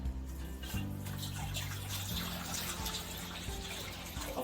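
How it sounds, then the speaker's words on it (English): Water pours into a wok, a soft splashing trickle with a steady running tone, close and fairly quiet, lasting a few seconds with no talking. "You have this nice wok that all you do is put water in"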